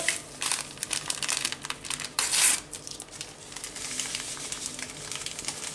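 Small paper sachets of vanilla sugar are torn open and crumpled close by, with irregular crinkles and one sharper tearing burst, and no one talks.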